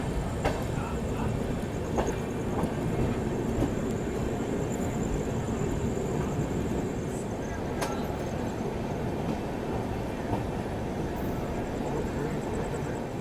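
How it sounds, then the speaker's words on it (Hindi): Rajdhani Express (Dibrugarh Rajdhani, 20504) rolling slowly past a station under redevelopment with track work, a steady broadband rumble throughout with faint clicks, heard from on board. "गाड़ी जो है वो धीमी धीमी रफ्तार में ही निकल रही है।"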